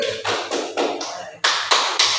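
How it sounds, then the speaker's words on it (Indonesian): Group hand claps in the rhythmic 'tepuk cinta' clapping game, a series of sharp, close, evenly spaced claps with no talk over them. "Tak ajarin tepuk cinta ya. Tepuk cinta."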